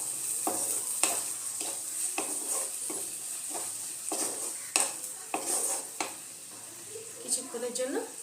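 Yogurt and spices are sautéed in a pan for a raw jackfruit and prawn curry. Rhythmic scraping spatula strokes sound over a light sizzle, close and clear, with a few sharper clinks toward the end.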